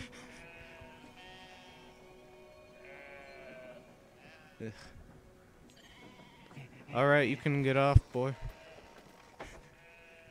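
Someone speaks quietly, then a loud, wavering sheep bleat from the video game Brothers: A Tale of Two Sons rings out close by near the end, followed by a few brief clicks.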